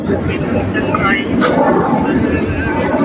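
A steady, broad engine roar of an airplane passing overhead fills the whole clip, with faint voices underneath.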